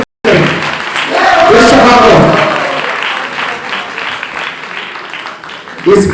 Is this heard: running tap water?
no